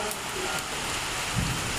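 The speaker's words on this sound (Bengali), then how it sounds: "4টে বাজে, এখন বৃষ্টি শুরু হয়ে গেছে" Rain falling in a garden, a steady even hiss of drops on leaves and surfaces, brief and continuous with a faint voice in the background.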